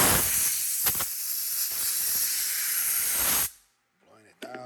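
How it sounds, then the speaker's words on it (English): A small handheld air blower hisses steadily as it blows down a guitar fretboard during a build, a loud continuous close-up rush that cuts off abruptly, followed by a brief faint voice. "So got my little blower"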